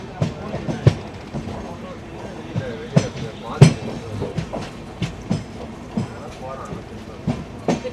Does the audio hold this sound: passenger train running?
yes